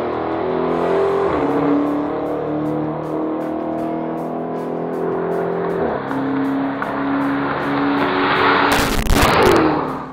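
A 2015 Dodge SRT Hellcat with a supercharged 6.2-liter V8 rumbles and revs as it drives off, the deep engine tone rising and shifting, with a burst of loud popping near the end.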